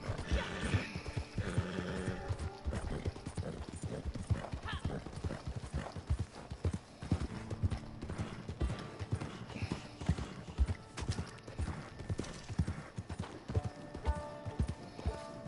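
Horse hooves trotting in a PS4 video game, a rapid rhythmic clip-clop running throughout, loud and close, with occasional whinnies over a game soundscape.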